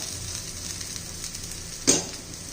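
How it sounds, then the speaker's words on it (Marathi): Spiced bitter gourd slices fry in oil with a soft, continuous sizzle, broken near the end by one brief louder crackling burst. "तेल सोडूया थोडंसं कारलं शिजायला थोडा वेळ लागतो"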